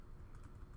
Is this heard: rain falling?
no